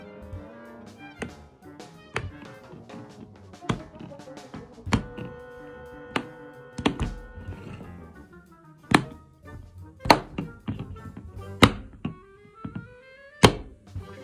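Sharp, loud clacks ring out from a new fidget toy kit being tapped and pressed, coming as irregular single knocks and quick bursts, close up with no talking.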